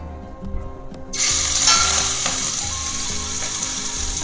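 Prawns hit a pan with a little oil for Kerala-style chemmeen roast, a sudden loud sizzle bursting in after a quiet start and hissing on steadily and close.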